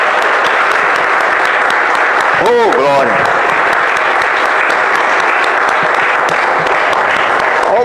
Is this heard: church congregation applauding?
yes